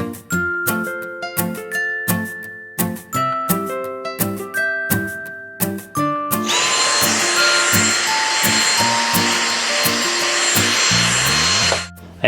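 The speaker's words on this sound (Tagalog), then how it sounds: "Tayo'y magbabacuum naman." A household vacuum cleaner in a home in Japan starts up after some clattering and runs as a loud, steady roaring whine for several seconds before cutting off.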